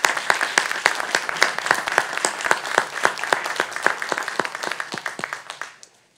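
Audience applause for a Notre Dame professor at a lecture, a dense, loud burst of many hands clapping together that keeps up steadily before fading quickly into silence.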